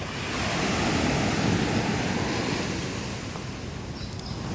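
Sea waves wash steadily onto White Beach at Puerto Galera, a continuous broad surf roar with some wind noise, fairly close and unbroken for several seconds, with no talking.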